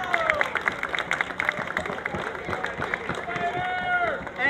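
Outdoor crowd at the Scotch Plains Day 2014 town event cheering and clapping for a high school teacher, dense continuous applause with scattered whoops, fairly close and loud throughout.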